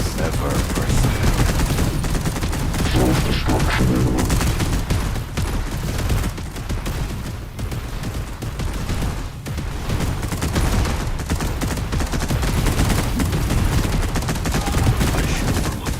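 Constant, dense weapon fire from units fighting a battle in the sci-fi strategy game Zero Space, rapid bursts and booms piling into a loud, continuous barrage, with brief game voice lines now and then.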